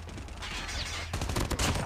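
Gunfire in Call of Duty Mobile rattles out as a quick burst of close, sharp shots with a brief volley in the latter half over a steady low background hum.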